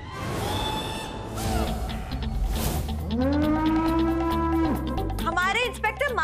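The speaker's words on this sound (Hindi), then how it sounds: "ये भैंसा यहाँ कैसा?" A buffalo lets out a long, drawn-out moo in the middle of a noisy scene, loud and close, with music-like tones and bustle around it.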